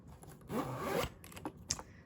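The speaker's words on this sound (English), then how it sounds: "got your back zipper here." The back zipper on an Oreck Elevate upright vacuum's bag is pulled open in a quick, quiet rasping stroke, followed by a few faint soft rustles and clicks nearby.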